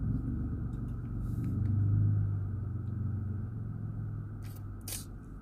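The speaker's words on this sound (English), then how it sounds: "Waiting for these cars to get done. Or not get done, but drive by." Cars drive past on a road, a low rumbling engine swell that builds and fades over several seconds, heard at moderate distance with no talking.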